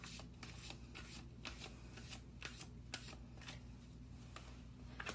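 Tarot cards are shuffled close up in quiet, rapid riffling bursts, a steady papery flutter with soft taps repeating throughout and no talk.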